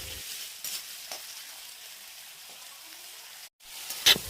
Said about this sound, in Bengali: ছোট ছোট ডাইস করে কাটা আলু, ক্যাপসিকাম আর গাজরগুলোকে ঘিতে ভেজে নেওয়া হলো